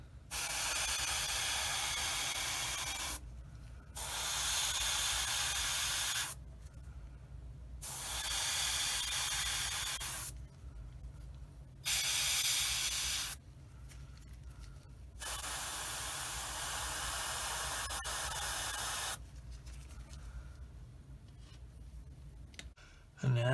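An airbrush sprays Mission Models Tire Black paint onto a Tamiya 1/35 M2A2 Bradley model. Several steady hissing bursts of a few seconds each are separated by short pauses, close and alone.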